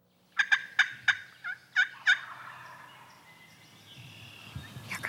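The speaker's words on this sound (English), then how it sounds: "from the sound of their gobbles," Wild turkey gobblers during a spring hunt in Michigan, a burst of several rapid gobbles from a distance, then fading into quiet outdoor ambience.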